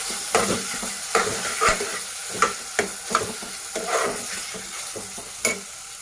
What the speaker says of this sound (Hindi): अब उसके बाद मैं इसमें चॉप टमाटर डालूंगी और इसका फ्लेम आपको स्लो पे रखना है।